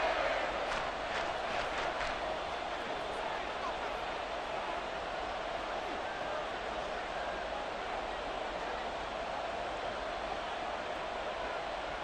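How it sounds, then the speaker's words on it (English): Stadium crowd noise from the Madden NFL 24 football video game, a steady dense roar filling the whole clip, with a few brief louder cheers near the start. "this crowd's going to get even louder"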